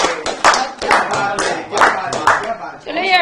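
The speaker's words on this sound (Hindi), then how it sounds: "इसलिए जोर से ताली।" An audience at a Holi poets' gathering claps loudly in uneven bursts, with voices speaking over the applause.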